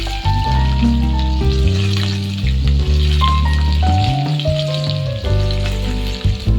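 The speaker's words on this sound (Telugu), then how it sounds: "ఉల్లిపాయలు వేగినాయి కదండి" Onions and green chillies frying in hot oil with dried red chillies, cumin, fennel, cardamom and cloves, a strong continuous sizzle close up with stirring clatter, no talking.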